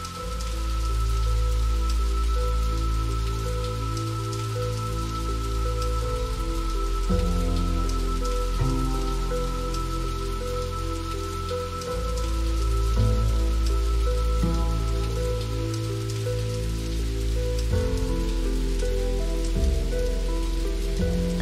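Steady rain falls in a visual novel game sound effect, a continuous close patter of drops on a surface, unbroken and even in loudness, layered over a low sustained tonal background and with no talking.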